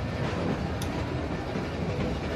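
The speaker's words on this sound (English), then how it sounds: "Stop the train." A train rolls along steadily in a video game, The Walking Dead: Long Road Ahead, giving a continuous rumbling clatter of wheels and carriage at an even, fairly loud level with no voices.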